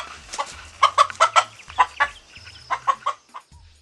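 Chickens cluck in a series of close, sharp, rhythmic bursts against a quiet background, several short calls spread across a few seconds.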